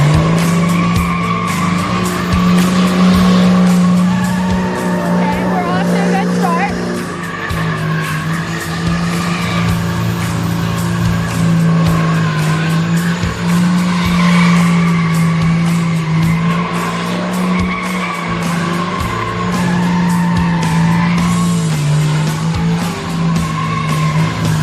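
A hot rod truck engine roars continuously with a strong low drone while tires squeal and skid at a drag-racing event, loud and sustained throughout, with no clear talking over it.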